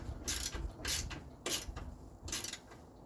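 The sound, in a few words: 1/4 inch ratchet tightening snowblower bolts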